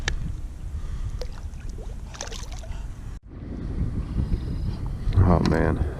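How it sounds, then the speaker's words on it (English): Strong wind buffets the microphone while kayaking on a lake, a steady broadband rush with gusts throughout, plus a short dip midway and brief splashy clatter near the end. "Oh man, that wind is brutal."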